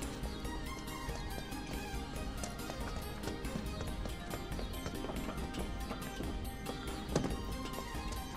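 Horse hooves clop continuously in a Final Fantasy VII Remake game scene, a steady galloping rhythm buried in busy game music and effects, moderately quiet throughout.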